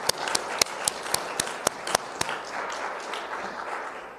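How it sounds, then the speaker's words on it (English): A crowd gathered for a state Supreme Court nominee announcement applauds the nominee's family. A few sharp, close individual claps ring out first, then a broad wash of applause that gradually thins. "Let's give them all a big round of applause."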